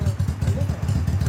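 A 2007 Yamaha Majesty scooter fitted with a Beams muffler idles close by, its engine thumping in a steady, rapid low putter that keeps an even pulse throughout.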